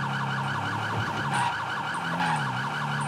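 A police car siren in a FiveM GTA roleplay game wails loudly and continuously, its rising and falling tone running throughout with steady vehicle noise beneath.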